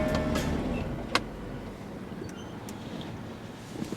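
A 2015 Jaguar XKR-S engine idles with a low rumble that cuts off after a short, sharp click, leaving a quiet, hollow background with faint ticks.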